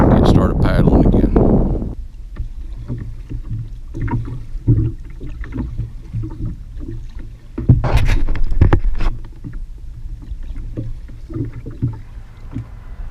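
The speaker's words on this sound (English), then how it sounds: "I'm going to jump off here and get started paddling again." Kayak paddling on windy water near Bay St. Louis, Mississippi, with a loud rush of wind noise at the start, then intermittent paddle splashes and drips, one stronger splash burst midway, and a voice talking at times.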